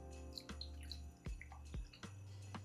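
Cold brew coffee poured over whiskey stones, liquid splashing and trickling in short bursts with a few sharp clinks, close and moderately quiet.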